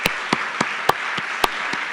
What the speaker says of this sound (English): Once again, round of applause for the entire team and the hard work of everybody.